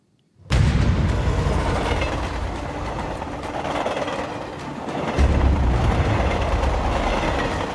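A train runs along railway tracks, a steady loud rumble with rolling clatter that swells again toward the end, close by and with no voices.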